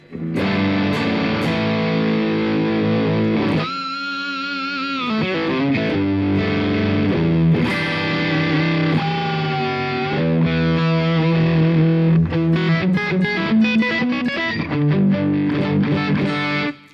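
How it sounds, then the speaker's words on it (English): Gritty, fuzzy tube-driven overdriven electric guitar plays chords and sliding notes, loud and continuous, with a brief drop in tone partway through and no talking. "it's a bit fuzzy. It's a bit like fuzz, which I dig."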